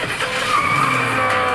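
A race car drifts on an airport runway, its tires letting out a loud, continuous skidding squeal over a roaring engine, close and unbroken throughout.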